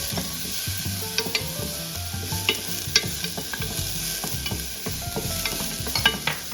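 A clove of garlic fries on a Blackstone flat-top griddle, giving a steady close sizzle broken by frequent scraping and tapping of a metal spatula on the hot steel surface, with no talking.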